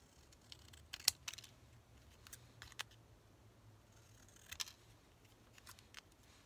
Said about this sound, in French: Je vais venir la découper dans mon papier